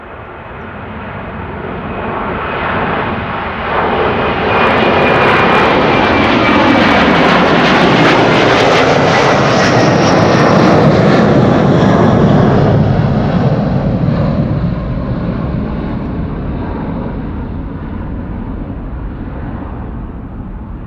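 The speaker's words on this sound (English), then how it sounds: "That is a 787-8 Dreamliner." A Boeing 787-8 Dreamliner departs Amsterdam Schiphol Airport, its loud jet roar building over several seconds, peaking in a broad rumble, then slowly easing as it climbs away.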